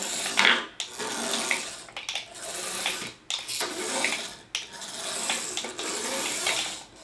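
A Jada Toyota Supra RC car from the Fast and the Furious line runs with its steering working, giving a close, buzzing electric whir in uneven bursts with brief pauses, like a small motor and steering servo.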